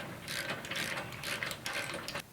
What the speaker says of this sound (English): Now we're going to go ahead and use a 3/4 inch socket and go ahead and tighten up the bolts.